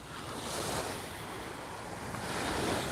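Ocean waves wash onto a beach at sunset in Cape May, New Jersey, a steady rushing surf mixed with wind buffeting the microphone, moderately loud and continuous with no voices.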